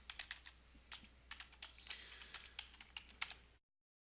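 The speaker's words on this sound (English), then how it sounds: "and then I can type a chat" Quick, irregular keystrokes on a computer keyboard as a chat message is typed, crisp close clicks alone in a quiet room, stopping abruptly after a few seconds.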